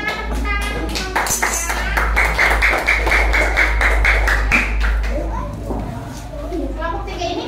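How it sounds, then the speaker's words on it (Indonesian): Children applaud group 3 in a classroom with a burst of rapid, close clapping that carries on for several seconds under a low hum and chatty voices. "beri semangat tepuk tangan untuk kelompok"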